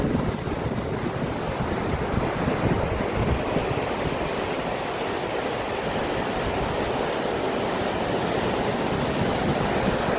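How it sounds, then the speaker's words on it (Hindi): A fast mountain river, the Alaknanda at Keshav Prayag, roars steadily, a dense continuous rush of churning water with no pauses, loud and close throughout. "नदी का वेग बहुत तेज और जोरों पे है।"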